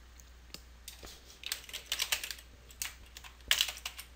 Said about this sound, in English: Control-C on my keyboard, Control-V